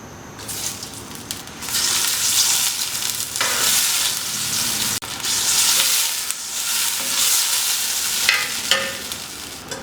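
Tomatoes fry in cooking oil for a Karachi-style student biryani, a loud close sizzle that surges as they are stirred, with scraping strokes and a brief cut midway, and no voices.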